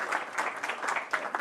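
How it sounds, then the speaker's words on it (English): Brief burst of audience applause at a project's final event after a presentation, steady clapping from a room of people, moderately loud. "Any first applause to Jonas, of course."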